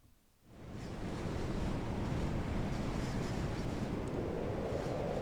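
Strong wind blows steadily in a stormy scene, a broad roaring rush that rises out of near-silence after half a second and holds loud and unbroken, with a surf-like wash and no voices.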